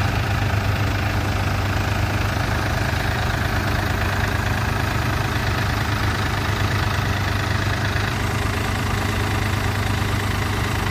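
A New Holland Excel 4710 4WD tractor engine runs steadily throughout, a loud, continuous low diesel rumble with an even idling throb and no voices.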